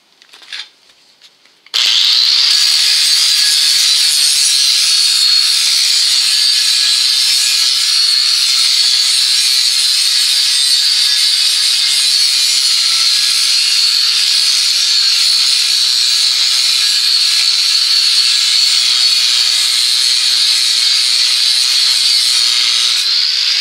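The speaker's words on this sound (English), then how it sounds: "Roughly ground out bevel with an angle grinder." Angle grinder grinding a rough bevel onto the steel splitting edge of a log froe, a loud steady high-pitched whine and hiss that starts abruptly after a brief quiet moment and runs continuously without pause.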